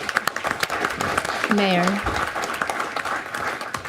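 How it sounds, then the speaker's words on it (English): Scattered applause from a joint county and city meeting crowd thanking a panel, clapping mixed with talk, plus a brief voice or tone rising midway. "let's give our panel and Robin a hand of applause"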